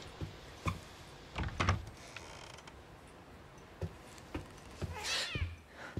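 A cat in the horror adventure game The Medium, giving a short meow and brief startled sounds amid sparse creaks and mechanical noises, fairly close and moderately loud, with no talking.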